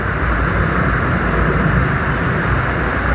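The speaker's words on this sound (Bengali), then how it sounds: "যাত্রাপথে ট্রেন লাইন আমাদের সামনে পড়েছে এর মধ্যে একটি ট্রেন আমাদেরকে পাস করে যাচ্ছে" A train passes close by on a railway line on the road to Chandpur, Bangladesh, making a loud, steady rumble and roar that fills the whole moment.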